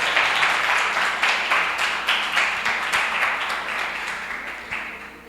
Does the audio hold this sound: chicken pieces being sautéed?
no